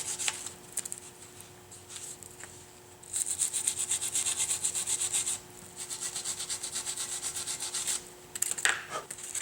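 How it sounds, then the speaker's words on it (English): A wire brush scrubs rust and corrosion off the front brake caliper mount of a GMC Yukon Denali in rapid, rhythmic close strokes, in two long bursts separated by a short pause, with a few light clicks at the start and end. "take a wire brush and clean up all of the rust and corrosion off of the caliper mount itself"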